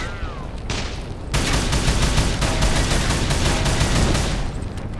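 Gunfire in Call of Juarez: The Cartel on PS3: a short shot, then a dense, rapid burst of automatic fire that continues loud and steady for several seconds.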